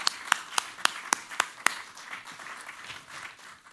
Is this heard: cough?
no